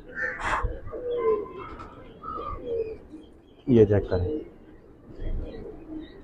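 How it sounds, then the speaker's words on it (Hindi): Imamdeen pigeons coo and call in short bursts close by, with a louder cluster of cooing near the middle, while someone talks over them in a quiet indoor loft setting. "हैश पत्ती वाला कबूतर है"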